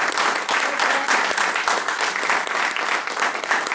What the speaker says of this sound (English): I hope our audience members will give our candidates a big round of applause.